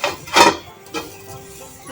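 A metal lid lifted off a pot of boiling vegetables: a sharp clattering clank, then a second lighter knock and faint scraping, close and fairly loud.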